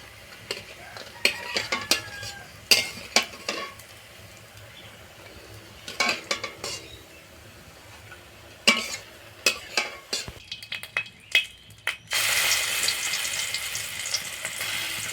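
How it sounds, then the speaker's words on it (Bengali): Bitter gourd and lentil fritters fry in oil with a soft sizzle under repeated sharp clinks and scrapes of a utensil against the pan, ending in a louder, steady burst of sizzling. "আর এই একই রকমভাবে সব বড়াগুলো আমি ভেজে নেব।"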